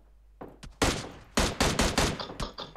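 Gunfire in the mobile battle-royale game PUBG Mobile: a handful of loud, rapid bursts of shots follow one another in quick succession after a brief quiet start.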